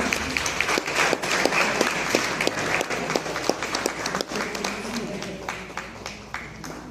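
A crowd applauds steadily throughout at an outdoor kayaking competition's prize ceremony, dense clapping with a few sharper individual claps, while a voice talks faintly underneath.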